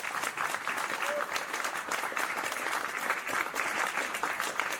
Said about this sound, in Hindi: पूरा हॉल तालियों से गूंज उठता है।